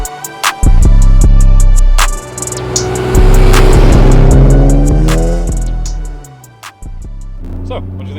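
A BMW E36 car drives with a loud, close engine rumble that rises and falls through gear changes, with the engine tone sweeping up as it revs before easing off near the end.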